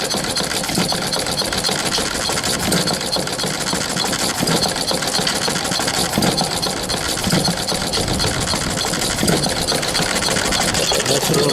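An old Oldsmobile engine runs and fires steadily, a loud continuous mechanical chugging with rhythmic knocking and clatter throughout.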